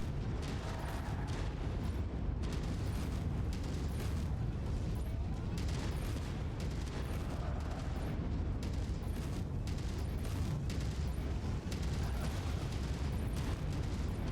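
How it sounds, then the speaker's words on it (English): Dense, continuous rumble of missile blasts and mechanical battle noise from a tank in the MechWarrior 5 Mercenaries video game, loud and unbroken throughout with no voices. "I think that's actually a tank back there shooting missiles at me."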